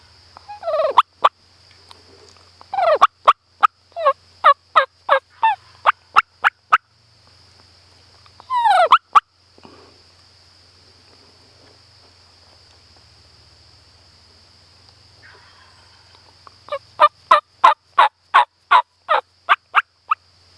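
A wild turkey gobbler calls in late-afternoon woods during spring hunting season, with rapid clucking bursts and rattling gobbles in separate bouts over a constant high insect drone and faint low hum.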